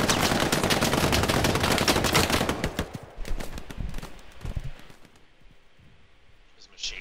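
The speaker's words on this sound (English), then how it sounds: "There's a machine gun somewhere over there." Sustained rapid machine-gun fire in a video game, dense crackling bursts for the first few seconds, then scattered single shots fading into quieter ambience, with a voice talking over it.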